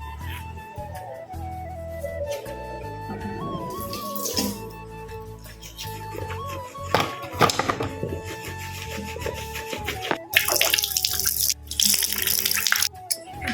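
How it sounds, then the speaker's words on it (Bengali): Tap water running into a sink while teeth are brushed, an uneven splashing flow broken by clattering knocks, scrapes and bursts of louder spray throughout, with no speech. "এখন আমি ব্রাশ করব।"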